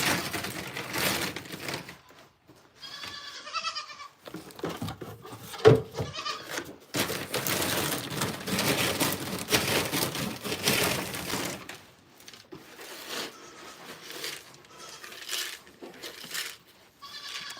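Goats bleat repeatedly on a small goat farm, a mix of near and farther calls in irregular bursts with livestock shuffling and bottle-feeding bustle between them.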